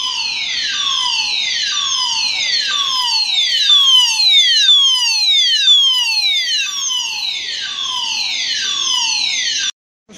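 A siren test sounds through an underground car park at an airport train station. Loud falling wails repeat in a steady cycle for about ten seconds and then cut off abruptly.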